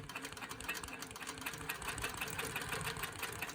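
A longarm quilting machine stitches free-motion over a vintage quilt top, making a steady, fairly quiet mechanical whir with a rapid needle chatter that runs unbroken throughout.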